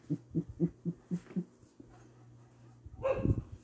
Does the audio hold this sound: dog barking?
yes